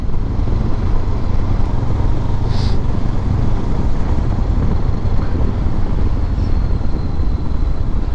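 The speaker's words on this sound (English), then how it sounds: "the windshield is definitely creating a lot of noise for someone my size" Steady, loud wind roar buffets the microphone on a Honda CB500X motorcycle, rushing air off the windshield with engine rumble low underneath, continuous and unbroken throughout.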